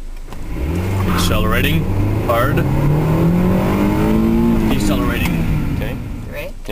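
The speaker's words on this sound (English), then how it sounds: "Accelerating" A car engine climbs in pitch as it accelerates, loud and close, then eases off, with a voice talking over it at the start and end.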